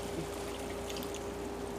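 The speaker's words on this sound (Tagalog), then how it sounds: "Lagyan natin ng kunting tubig." Water trickles into a pot of chicken adobo with bay leaves, giving a faint, steady pouring sound with a light liquid hiss and no talk.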